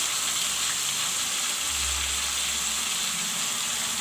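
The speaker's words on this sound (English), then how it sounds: "let the masala fry along with the drumstick and potato" Masala paste with drumstick and potato fries in a pan, giving a loud, steady sizzle and hiss that fills the whole stretch, with a low stirring rumble midway.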